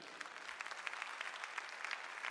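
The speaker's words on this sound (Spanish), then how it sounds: "¿Cuántos le dan palmas a Cristo?" A church congregation claps for Christ during a sermon by Pastor Hugo Albornoz, a dense, even patter of hands that runs briefly and steadily at moderate volume.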